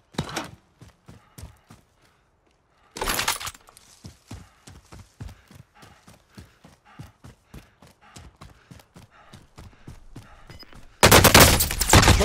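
Gunfire in the Warzone video game, a long run of evenly spaced single shots with short gaps, broken by louder dense bursts near the start and at the end.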